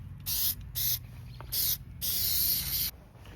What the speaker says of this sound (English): I'm gonna go take it outside and spray it on.